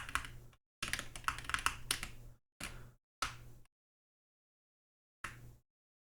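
Bursts of clattering computer-keyboard typing used to steer a video game camera, close and crisp, in several clusters separated by silent pauses.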